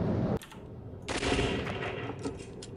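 Gunfire in the police tactical shooter SWAT 4 during a training-range session: a single sharp report, then a loud sustained burst of overlapping shots with a ringing tail.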